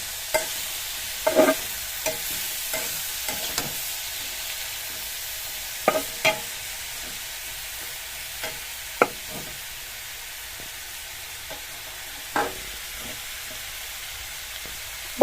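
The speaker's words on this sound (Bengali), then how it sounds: "এরকম ভাবে ভাজি করতেছে, যে এরকম ভাবে কাটছে পটল আর আলু" Sliced pointed gourd and potato fry in a pan, a low continuous sizzle broken by occasional scraping stirs and clinks, with no voices.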